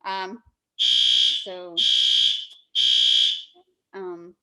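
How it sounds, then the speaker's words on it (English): A deafening fire alarm blares indoors in three long, loud bursts separated by brief gaps, with a person talking in between. "That's that, the alarm that I was telling you guys about."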